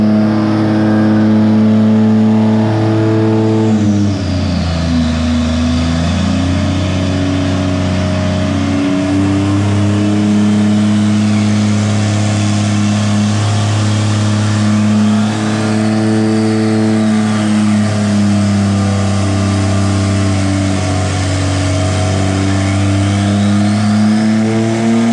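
A turbocharged Jeep Cherokee on a chassis dyno, engine held loud and steady under load, with several rising and falling revs through the run and no talking.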